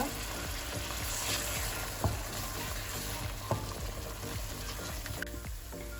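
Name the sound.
spice paste frying in oil for parwal curry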